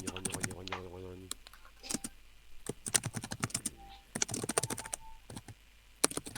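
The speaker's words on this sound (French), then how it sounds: "on tape tous sur notre clavier" Several people typing on computer keyboards during a Dungeons & Dragons session, a clatter of key clicks in quick irregular bursts, with speech at the start and scattered voices and talk throughout.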